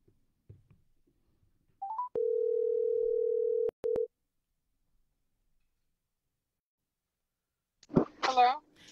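A landline telephone dial tone hums steadily for about two seconds while a call is placed, cut off briefly, followed by faint button tones; a voice speaks near the end.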